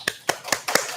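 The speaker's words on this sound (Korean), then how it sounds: "박수하겠습니다." Congregation clapping during a Korean church worship service, heard as a few distinct, fairly close claps spaced unevenly across a single second, like a small scattered round of applause.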